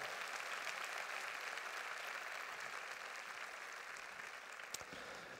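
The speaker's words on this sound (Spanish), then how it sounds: "Merece un aplauso el Señor por eso" A congregation claps during a church sermon, a continuous broad patter of many hands at moderate distance, fading slightly toward the end with one sharp isolated clap near the close.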